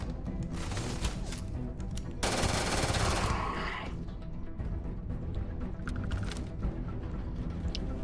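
Rapid automatic gunfire in Starfield, a dense stream of shots that swells into a loud sustained burst before easing back to scattered firing.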